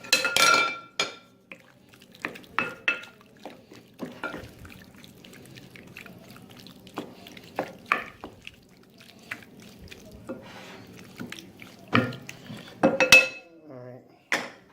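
Shrimp tossed with olive oil in a bowl: scattered clinks, wet squelches and scraping taps come in irregular bursts, close up, with quiet gaps between them.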